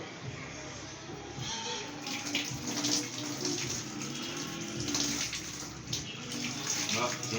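Tap water runs steadily and splashes while hands are wetted for handwashing, a continuous close gush with small changes as the hands move through the stream.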